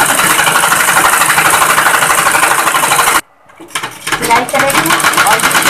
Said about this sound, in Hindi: ऐसे करके की सिलाई दे लेंगे